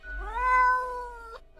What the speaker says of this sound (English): The cat answers meow with uncertainty.